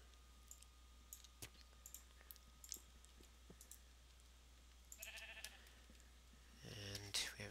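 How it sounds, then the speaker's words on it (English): Minecraft sheep bleating in short wavering cries near the end, following scattered faint clicks from block digging over a quiet low hum. "A sheep."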